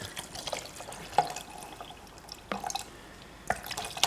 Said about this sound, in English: Use some water.